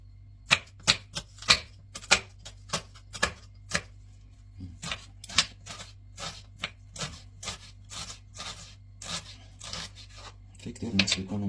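An onion being chopped with a knife for a meat mixture, sharp regular thuds on a cutting board, close and clear, with a pause partway through and a scraping sound at the end.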